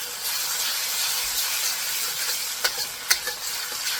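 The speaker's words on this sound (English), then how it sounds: "And we'll saute it." Shrimp sautéing in a pan with fish sauce and monk fruit sweetener, giving a steady, close hiss and sizzle with a few sharp spatters and pops toward the end, and no voices.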